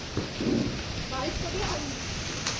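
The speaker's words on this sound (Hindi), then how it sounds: "और बारिश आ गई थोड़ी सी" Steady rain falls during a village storm, a continuous hiss with faint rumbling underneath and a few muffled voices talking in the background.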